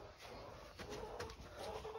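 Chickens in a backyard coop cluck and murmur in a steady, fairly quiet background chatter, with brief louder calls mixed into the continuous low hum of the birds.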